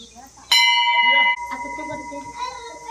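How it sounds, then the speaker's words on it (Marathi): A child strikes a bell in a garden: one sharp clang that rings on with a sustained metallic tone, then fades into low ringing as voices talk nearby. "दिदी पण घंटी वाजवते"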